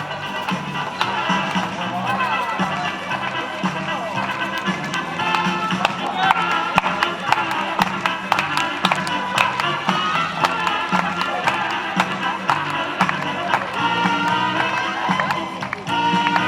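Clapping and light cheering from the crowd at a horse breeding championship show in Friesland, sustained under loud music, with the applause somewhat buried in the mix and no voices standing out.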